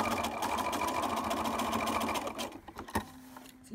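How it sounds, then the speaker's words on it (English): An electric sewing machine stitches a fabric face mask in a steady, fast mechanical chatter for a few seconds, then stops, leaving a faint hum and a few handling clicks. "keep sewing along to the end"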